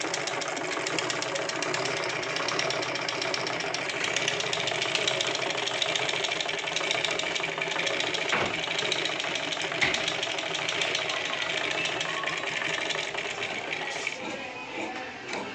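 A tailor's sewing machine, just repaired after a noise fault, stitches continuously with a fast, even mechanical rattle and hum that holds steady throughout, close by, with no talking.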